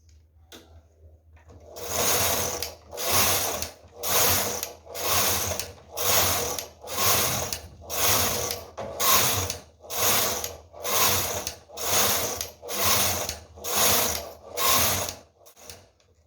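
Silver Reed knitting machine carriage sliding back and forth across the needle bed, a steady series of about fourteen loud ratcheting, clattering passes in even rhythm, close and alone with no talk.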